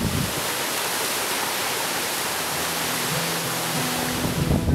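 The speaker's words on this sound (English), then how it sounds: "there was this really cool waterfall" Steady, broadband rushing roar of the Svartifoss waterfall in an Icelandic national park, continuous and fairly loud, with a faint low rumble near the end.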